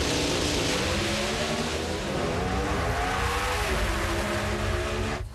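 Pro Stock drag race cars roaring down the track at the Northwest Nationals in Seattle, a loud continuous engine howl with rising pitch as they accelerate, sustained throughout before cutting off at the end.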